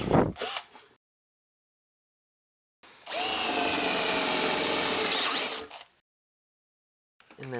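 An electric drill bores holes in a metal amplifier chassis in short bursts: a brief spin at the start, a sustained whining grind of about three seconds in the middle, and another start at the end, separated by silence.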